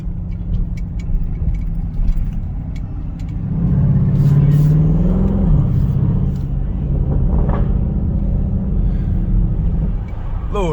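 Deep, steady V8 rumble from a Dodge Durango SRT with the 392 engine cruising through downtown Toledo, Ohio at night, swelling louder midway as it pulls, with faint street noise and distant voices around it.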